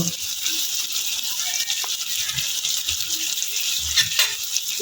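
Chicken pieces coated in turmeric, chicken masala and salt fry in a hot pan with a steady, bright sizzle and occasional stirring scrapes, close and continuous with no talking.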